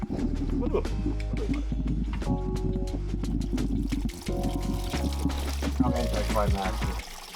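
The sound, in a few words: coolant water draining from car radiator lower hose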